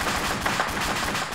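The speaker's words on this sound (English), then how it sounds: "Shit, they're getting shot." Gunfire in the survival game DayZ: rapid, steady automatic shots pulse evenly throughout, loud and close, with no talk.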